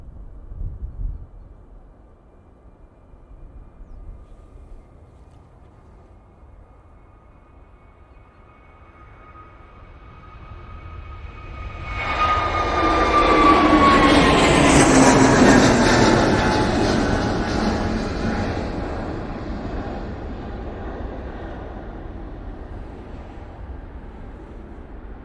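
An Airbus A321neo takes off from Manchester Airport bound for Dalaman: a faint engine whine builds into a broad roar that peaks around the middle, then slowly fades while still rumbling.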